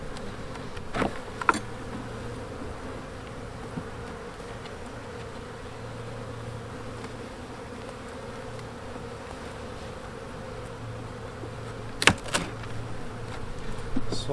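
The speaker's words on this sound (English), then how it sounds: "Poor little bees. Man, they had it rough." Honey bees in a winter-damaged hive infested with beetles hum in a steady, low drone close by, with a few faint knocks and taps standing out briefly above the buzzing.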